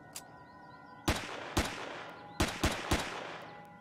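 Pistol gunfire in the sci-fi survival game Empyrion Galactic Survival: five or six sharp, loud shots in an uneven rhythm, each with a short decaying tail, over a low steady game hum.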